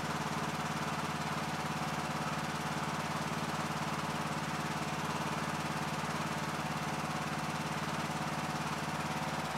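A Yard Machines riding mower with a 20 HP Briggs engine and CVT transmission runs steadily at lowered throttle, a close, even, continuous drone with no talk over it.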